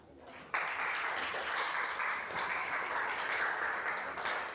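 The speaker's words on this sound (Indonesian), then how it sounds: "aplaus buat kita semua" Classroom applause from a group of students, a steady sustained clatter of many hands that starts abruptly and holds at even loudness for several seconds.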